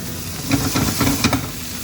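Vegetables and potatoes are stirred slowly in a pot with green peppers and garlic, making a steady sizzle and hiss with soft scraping strokes on top, close and without talk.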